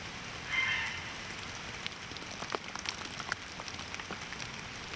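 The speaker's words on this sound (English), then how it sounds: "the snow in the treetops is melting, causing it to rain under the trees" Melting snow dripping from treetops onto the forest floor in Tasmania, falling like rain: a steady patter of drops under a soft continuous hiss, with a few closer, sharper drips standing out.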